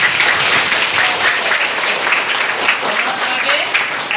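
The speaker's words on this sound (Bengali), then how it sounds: "তাহলে ওর জন্য হাততালি দেই আমরা।" Students clapping together in a classroom, a continuous, even wash of hand claps from a small group nearby, sustained at a steady level throughout.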